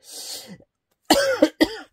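A breathy throat-clearing rasp followed by two sharp, close coughs in quick succession, from a lingering bad cough.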